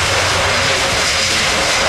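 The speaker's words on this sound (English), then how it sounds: "And of course with those 4 engines in reverse thrust." A four-engine aircraft lands at an air show with all engines in reverse thrust under maximum braking, a loud, steady jet roar close by with no talk.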